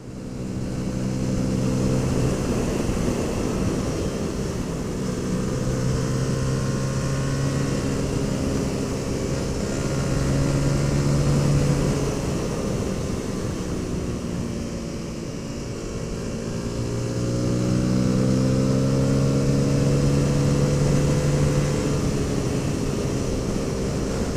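Honda CRF300L motorcycle on the move, a steady engine drone rising and falling in pitch as the rider speeds up and eases off, with constant wind rush and no talking.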